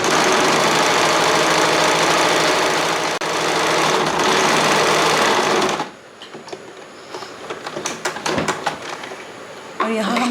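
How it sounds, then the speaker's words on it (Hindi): A sewing machine runs a plain stitch along the hem of a wrap dress, a loud steady whir for about six seconds before stopping, followed by quieter clicks and handling sounds. "वहाँ पे हम लोग जस्ट एक प्लेन स्टिच कर लेंगे।"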